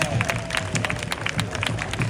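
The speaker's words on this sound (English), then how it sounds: "Round of applause, please." Scattered applause from a street crowd at an Armed Forces Day parade in Torrance, California, welcoming the Torrance Mountain Posse, fairly faint and distant, a light patter of claps.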